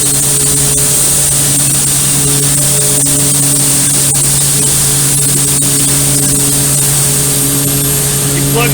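Glove loader machine running while feeding a dryer, giving a steady, loud mechanical drone with a strong constant hum and a high whine, unchanging throughout.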